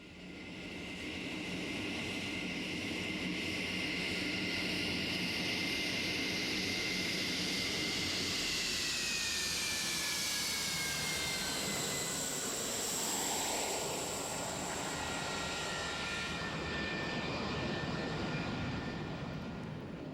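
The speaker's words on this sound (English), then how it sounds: "The 3-kilometer runway is wide enough to permit a staggered takeoff for 2 fighter jets at a time." MiG-29 fighter jets take off from a 3-kilometre runway in a staggered pair, with a loud, continuous jet roar that holds for the whole stretch while engine whine sweeps and shifts in pitch as the aircraft pass.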